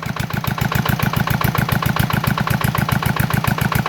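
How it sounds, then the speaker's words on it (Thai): A small engine drives a paddle wheel at a shrimp pond, chugging loud and close in a fast, regular pulsing rhythm. "ติดเครื่องให้ใบพัดพาน้ำไปนะครับ"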